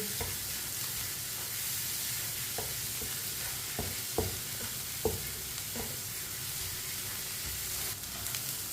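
Eggs and tinda (round gourd) cooking in a pan, a constant sizzle beneath occasional clacks of a spoon stirring against the metal, close and moderately loud.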